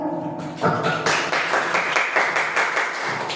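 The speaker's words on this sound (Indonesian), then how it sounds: "Tepuk tangan untuk Bu Ayu." A classroom audience claps hands together in dense, continuous applause during a teacher training session on positive school culture, many overlapping claps sustained at steady loudness throughout.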